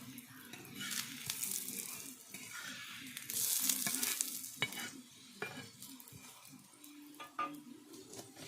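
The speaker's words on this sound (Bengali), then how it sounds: "এখানে আমি সাদা তেল দিয়ে ভেজে নিচ্ছি" A cabbage snack fries in white oil with a soft steady sizzle, broken by occasional stirring and scraping noises. There are quiet handling sounds nearby, and no talk.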